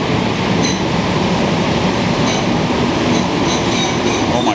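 Montreal STM MR-63 metro train running, a steady loud rumble of wheels and motors with faint high squeals and clicks throughout, heard from inside the car with no talk.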